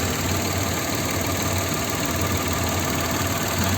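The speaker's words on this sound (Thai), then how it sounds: "เครื่องยนต์ก็เดินเรียบปกตินะครับเครื่องยนต์พันสองร้อยซีซีนะครับ" A 2018 Mitsubishi Attrage 1.2-litre engine idles steadily and close up, a smooth continuous hum with faint mechanical ticking and no voices.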